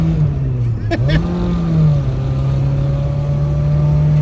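A Suzuki Samurai fitted with a swapped 1.6L 16V engine pulls away, its steady mid-pitched engine drone holding close and loud with a brief dip and slight rise in pitch, while people talk inside the cab.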